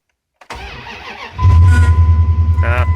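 A truck engine is started with a brief starter crank that catches into a loud, throbbing idle, with a faint high-pitched squeal riding over it, close to the microphone.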